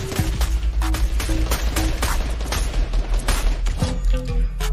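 Fortnite gunfire crackles in fast, loud bursts of rapid shots, layered with heavier booming reports and short pauses between volleys.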